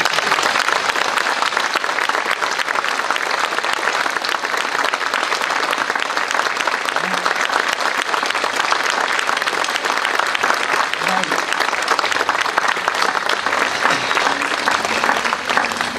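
A large audience claps in a dense, steady wash of applause that stays loud and unbroken throughout, with no pauses or swells.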